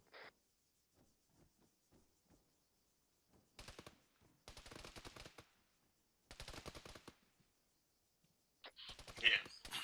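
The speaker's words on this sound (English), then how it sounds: "Sounds like a machine gun to me" Bursts of automatic machine gun fire from a military video game, several rapid rattling volleys of a second or so each, fairly loud, separated by quieter gaps with faint distant shots.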